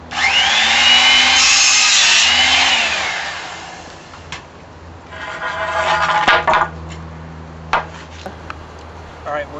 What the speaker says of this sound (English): how to use a skill saw and how to make cuts